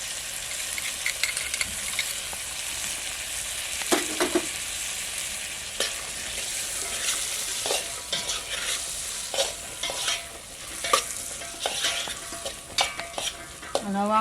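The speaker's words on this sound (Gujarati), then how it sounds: "અને હવે નાખી દઈએ આપણે ચણા બાફેલા અને થોડુંક નાખી દઈએ આપણે મરચું કોરું" Boiled chickpeas and dry chili being stirred in a hot pan with oil, a continuous sizzle running throughout under repeated close scraping of a spoon against the metal.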